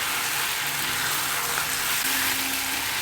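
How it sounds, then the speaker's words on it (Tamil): Dried salted fish sautéing in a hot pan gives a steady, loud hiss and sizzle that carries on unbroken, with no voices over it. "கருவாடு வந்து நல்லா வதக்கி விடணும்"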